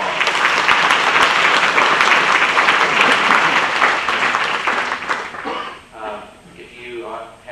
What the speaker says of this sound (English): How about giving all of our speakers a nice round of applause?